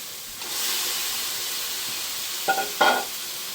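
Chicken meat goes into hot spices cooked down in oil, setting off a broad, steady hissing sizzle close by, with a couple of sharp clattering knocks near the end.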